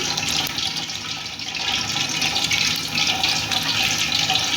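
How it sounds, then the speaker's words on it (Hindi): Potato donuts deep-frying in hot oil over a low flame, a steady close broadband sizzle and bubbling hiss that holds throughout with no talking. "ये देखिए हमारे डोनट्स जो हैं वो ऑयल में डल चुके हैं।"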